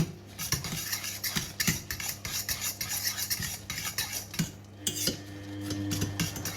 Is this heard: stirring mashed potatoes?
yes